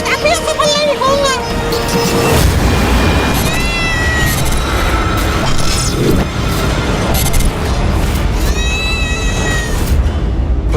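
A demonic cat meows and caterwauls repeatedly in a mythological TV drama, loud and close, with dramatic booms, a crash and tense music around it while a voice speaks.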